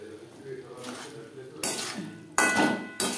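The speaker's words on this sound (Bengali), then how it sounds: "দু 3 মিনিট হাই টু মিডিয়াম ফ্লেমে নাড়াচাড়া করে নেব" Okra tossed in a pan over a high-to-medium gas flame, with a soft sizzle beneath a few loud metallic scrapes and clanks of the utensil against the pan, close up.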